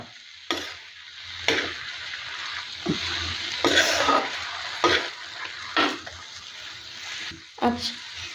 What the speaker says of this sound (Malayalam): അപ്പോൾ ചെറിയ തീയിൽ നമ്മൾ അതിനെ ഒന്ന് ഇളക്കി കൊടുത്തിരിക്കുകയാണ്